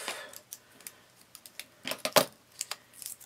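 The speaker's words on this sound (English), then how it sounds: "We can just cut these off." Scissors snipping stickers off a page while decorating an art journal smash book: a scattered run of crisp, quiet cuts and clicks, the sharpest one near the end, with no voices.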